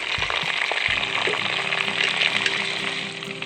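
Garlic and ginger frying in hot oil in a pan for a Kerala-style soya bean curry: a loud, close, dense sizzle with a few low knocks of the pan, and no talking.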